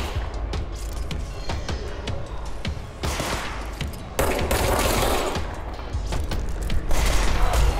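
Gunfire from the video game Control crackles in rapid, loud bursts and repeated shots, mixed with mechanical clicks and clatter, continuing steadily without speech.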